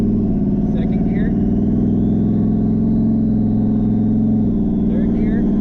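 Car engine pulling steadily through first and second gear as a transmission is checked for odd shifting, a continuous mid-low drone with a brief dip near the end as a gear changes, while a person talks over it.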